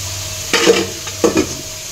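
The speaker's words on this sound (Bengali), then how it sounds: "যে আলু উচ্ছে তরকারিটা হচ্ছে" A potato and bitter gourd curry cooking in a pan, a soft sizzle broken by two short stirring scrapes of a spoon against the pan, close and brief.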